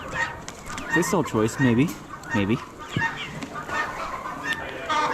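Chickens clucking and squawking in short bursts at a bird auction, close and fairly loud over a busy background murmur, with people talking nearby.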